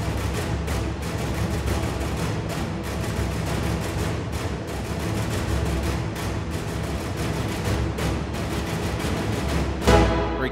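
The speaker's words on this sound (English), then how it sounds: "Colegno strings are basically when a violinist will use the wood of the bow to really get like a very aggressive sound." Violin strings struck with the wood of the bow in aggressive col legno fashion, producing a fast, relentless train of sharp percussive clicks over a dense, loud low-end backing that swells briefly near the end.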